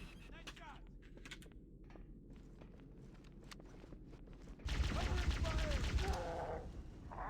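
Gunfire from weapons in Halo: Combat Evolved on Legendary: faint scattered shots and clatter over a low game rumble, then a louder, denser burst of firing in the last few seconds.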